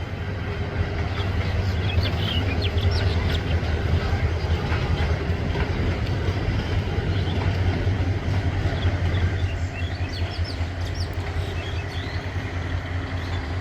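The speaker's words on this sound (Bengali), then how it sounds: "মেলান্দহ বাজার স্টেশনে আন্তনগর তিস্তা প্রবেশ করছে" An intercity Tista passenger train pulls into Melandah Bazar station in Bangladesh on a cloudy day, a steady loud low rumble of rail traffic that holds unbroken throughout, with faint higher rattles and squeals over it.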